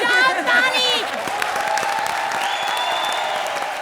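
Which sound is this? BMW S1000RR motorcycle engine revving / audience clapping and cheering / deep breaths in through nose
audience clapping and cheering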